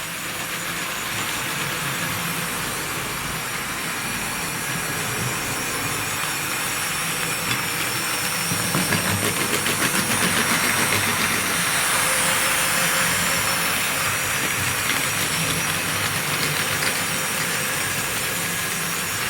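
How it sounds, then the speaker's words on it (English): A pair of Wrenn W tank model locomotives running on Tri-ang Super 4 track, a steady close whirring and rushing hum with faint rail clatter, continuous and fairly loud. "I think that's probably a great speed to run both these locos"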